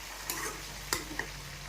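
Oil-coated eggplant pieces being stirred in a pan for Guntur-style eggplant karam, with a few soft scraping clinks over a faint steady sizzle, close and fairly quiet.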